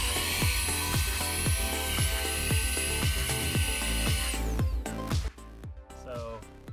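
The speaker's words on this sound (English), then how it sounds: "Today I want to show you a handheld MooSoo vacuum cleaner." A MooSoo handheld stick vacuum cleaner runs with a loud, high motor whine and steady rhythmic pulsing. The whine cuts off sharply about two-thirds of the way through, leaving quieter clatter behind.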